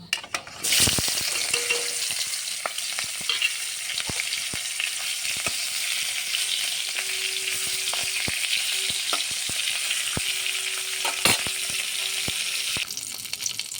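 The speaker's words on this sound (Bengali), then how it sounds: "বাকি মাছগুলিও বেজে নেব" A loud hiss starts suddenly as aair fish pieces hit hot oil, then a steady close sizzle with occasional light clicks, and nobody speaks.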